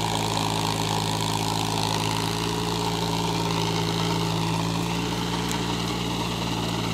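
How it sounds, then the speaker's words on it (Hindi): A Sonalika 22 HP mini tractor tills sugarcane ground with a rear rotavator, its engine droning steadily and loudly at close range without a break. "यह सोनालिका का 22 HP का ट्रैक्टर है, बैक रोटरी से इसका जुताई हो रहा है"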